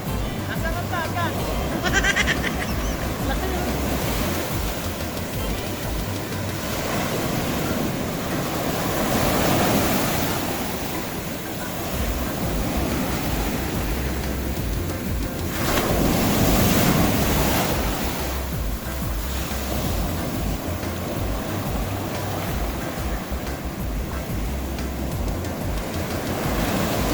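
Waves break and wash at San Juan, La Union beach in a steady roar with periodic swells, buffeted by wind noise, while people talk over it.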